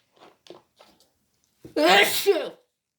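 After a few soft, scattered sounds, one loud, close sneeze bursts out and fades quickly.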